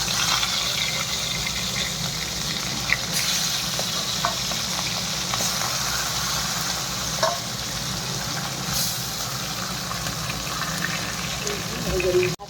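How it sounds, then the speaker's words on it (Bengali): Fish heads frying in a pan of oil, a steady close sizzle with occasional stirring and scraping running throughout, under faint background noise. "এখন মাথাগুলো ভেজে নিই।"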